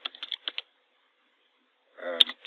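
Short bursts of keystrokes on a computer keyboard, close and fairly quiet, with a clear pause between two clusters of clicks.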